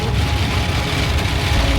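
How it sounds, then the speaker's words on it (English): Rain drums steadily on a van driving through Colorado on a road trip, a continuous hiss layered over low road rumble, with no one speaking. "raining."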